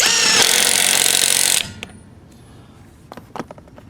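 A power tool runs a fastener down at a low torque setting with a loud, steady whir for about a second and a half, then stops abruptly, followed by a few faint clicks and knocks.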